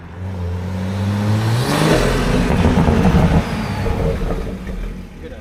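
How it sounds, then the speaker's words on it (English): A Toyota Supra with a catless downpipe revs up, its engine rising to a loud, sustained roar with a turbo whir riding on top, up close and without talk. "you can definitely hear the turbo"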